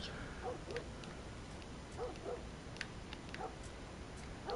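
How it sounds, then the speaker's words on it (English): In The Last of Us Part 1, a dog barks faintly from a distance and then lets out short, high squealing yelps, scattered over a low, murky background. "that moment where you hear the dog barking, and then you hear the dog squeal"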